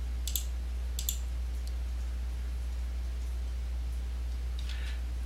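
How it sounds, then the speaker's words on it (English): Computer mouse clicking while placing walls in design software, a few quick, faint clicks spread over a steady low hum. "All I got to do is go through here, click on the lines, or click on the walls."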